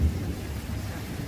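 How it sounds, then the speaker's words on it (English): Steady low rumble of a big thunderstorm with rain, a continuous dense wash of sound without distinct drops or cracks, fairly close and even throughout. "There's a really big storm happening right now."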